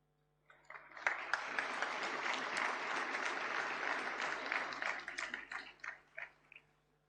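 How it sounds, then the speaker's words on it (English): A hall audience at an annual function claps together, the applause swelling quickly, holding strong for several seconds, then thinning into a few last scattered claps. "Once again, a great round of applause,"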